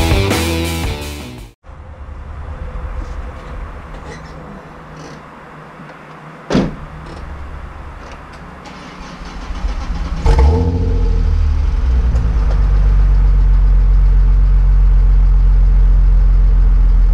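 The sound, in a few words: cars being moved out of a garage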